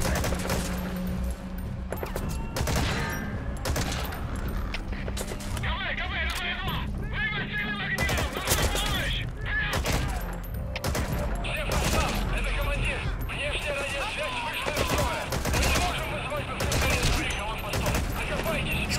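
Repeated bursts of gunfire and sharp shot impacts in Metal Gear Solid 5 combat, loud and clustered across the whole stretch, with someone talking over the shooting.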